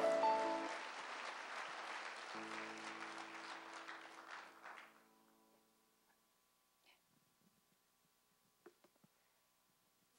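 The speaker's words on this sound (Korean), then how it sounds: "큰 박수로 환영해 주시기 바랍니다." Audience applause welcoming a professor at a 2012 interdenominational fasting prayer gathering, a sustained round of clapping that fades out after about five seconds, leaving near silence with a few faint knocks.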